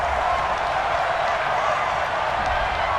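Stadium crowd noise from Madden NFL 20 swells after a penalty flag, a steady broadband roar of booing and murmuring that holds at full level without a break.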